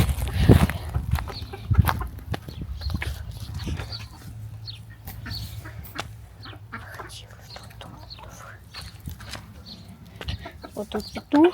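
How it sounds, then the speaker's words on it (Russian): A rooster and hens on a farm let out scattered clucks and short calls, with thumps and a voice nearby, moderately close under general outdoor rustle. "Вот тут петух."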